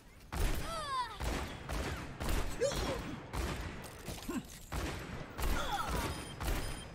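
Repeated gunshot bursts in Overwatch 2 firing in short rhythmic volleys with crisp impacts and effects, a voice speaking now and then between the shots.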